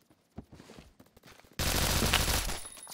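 Sustained video game gunfire bursts in loudly and continuously after a quieter stretch of soft footsteps and movement, a dense rattling fusillade filling the second half.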